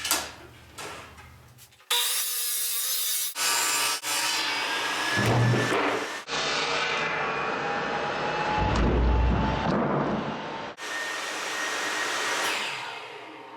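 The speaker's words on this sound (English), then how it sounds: "Okay, so I'm going to cut this piece of plywood down." A table saw rips a piece of plywood in several close bursts of loud whirring and cutting noise, separated by short pauses, with no voices.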